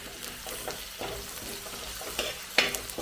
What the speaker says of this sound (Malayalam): അതിനെയും കൂടെ ചേർത്ത് നല്ലപോലെ ഒന്ന് വഴറ്റിയെടുക്കാം